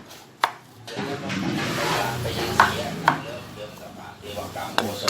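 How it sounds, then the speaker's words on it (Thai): Sharp knife chops through fish maw into large cubes on a board, one at a time, several crisp strikes spread unevenly over a low kitchen background, close and clear. "แต่ที่ร้านจะหั่นเป็น หั่นลูกเต๋าขนาดใหญ่ เป็นชิ้นพอคำครับ"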